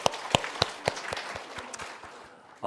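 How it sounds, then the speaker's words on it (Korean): Church congregation applauding together in worship, a run of sharp, separated claps at a steady rhythm that thins out, ending in a brief swell of louder sound. "하나님께 영광의 박수를 올려드립니다."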